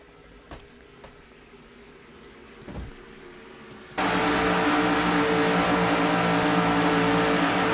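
Steady, loud racing engine drone from a Skull Classic Oldsmobile stock car stuck in third gear at high revs in an NNSCRA racing video game, cutting in abruptly after a quieter stretch of faint clicks and thumps, then holding constant to the end.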